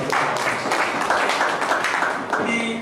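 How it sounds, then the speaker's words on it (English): An audience claps hands in a continuous round of applause, dense and steady at moderate volume, fading slightly toward the end. "Can you clap your hands for me?"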